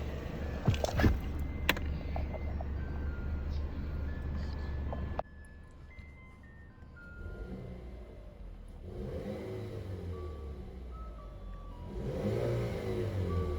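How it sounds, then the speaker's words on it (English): A 2020 Chevrolet Camaro 2.0-litre turbo engine with a tuning chip revs up sharply a few times, then settles into a steady idle with a couple of softer revs rising later. "It's revving fine, running fine."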